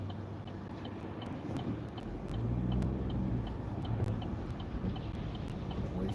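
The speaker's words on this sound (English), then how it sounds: "Wait for this car to go by." A car passes through an intersection, a low steady rumble of road traffic that swells in the middle and fades, with wind buffeting the microphone and no talk.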